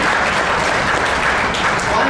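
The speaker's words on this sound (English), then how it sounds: "I think we can have a few claps there." A graduation ceremony audience claps loudly and continuously, a dense wash of applause with voices mixed in underneath.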